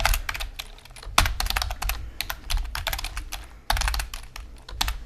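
Rapid bursts of keystrokes on a computer keyboard as a full name is typed into a username field, clicky taps in quick clusters separated by short pauses, close and clear with no voices.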